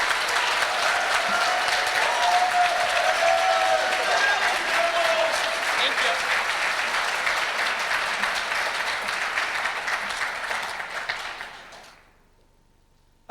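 Sustained audience applause fills a hall at an awards dinner, dense and loud, holding steady for about ten seconds before tapering and cutting off abruptly.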